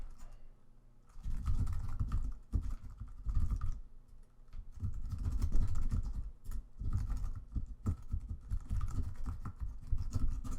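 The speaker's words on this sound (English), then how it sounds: "Let me type in the chat for you guys" Typing on a computer keyboard comes through close and steady, quick bursts of key clicks with short pauses between them and no talking.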